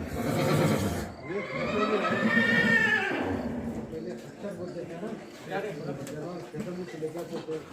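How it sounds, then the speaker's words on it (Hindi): A horse on a farm whinnies loudly and close by, with a rising, wavering neigh over about two seconds, followed by people talking nearby. "पहाड़ों में से ये वो घोड़ा है"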